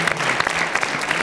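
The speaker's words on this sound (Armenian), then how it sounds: "Ծափալու ենք" An audience applauds at a singing contest gala concert. Dense, continuous clapping is loud and close and fills the whole short moment, with no talk over it.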